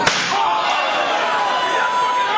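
A steel chair striking a wrestler at a wrestling show, one sharp metallic slam at the start followed by a ringing metallic tail and crowd noise.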